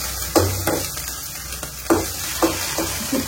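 Food sizzling on a hot stone griddle, a continuous hiss punctuated by several sharp scraping and tapping strokes of a utensil at uneven intervals.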